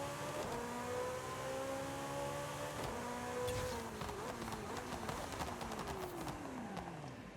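A Porsche 911 Turbo S with a drag tune in Forza Horizon 5 revs high and launches, engine tones climbing and falling through gear changes, moderately loud with no talking.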